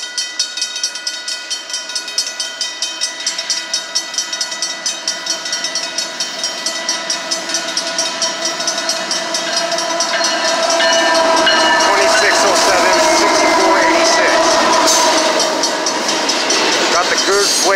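A Union Pacific intermodal freight train passes in Sacramento with a loud, continuous rumble of rolling cars, rhythmic wheel clatter and sustained tonal hum building toward the end.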